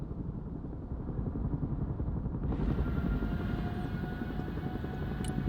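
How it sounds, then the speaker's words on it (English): A cargo helicopter in the video game Broken Arrow approaches a drop zone, its steady, loud rotor and engine drone running throughout and growing fuller partway through, with no talk over it. "Cargo helicopter approaching the DZ."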